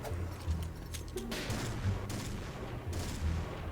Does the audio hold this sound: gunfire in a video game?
yes